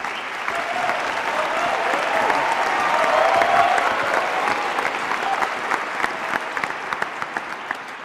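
An audience at a university debate at CU-Boulder bursts into sustained applause, a dense wash of clapping that swells and then gradually thins over about eight seconds.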